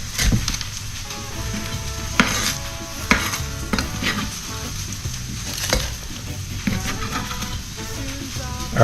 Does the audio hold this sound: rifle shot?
no